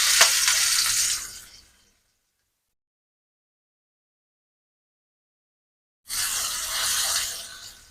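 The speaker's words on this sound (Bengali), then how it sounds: "যেভাবে আমি মশলা লাগিয়ে মাছটা একে একে ফ্রাই প্যানে দিয়ে দিব।" Spiced poa fish from the Payra river frying in a frying pan, heard as two close, bright bursts of sizzling hiss separated by several seconds of silence.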